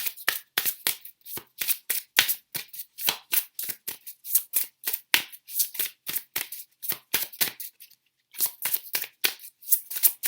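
A tarot card deck is shuffled by hand in rapid, crisp riffling bursts that repeat steadily, pause briefly, then resume, close and clear with no voices.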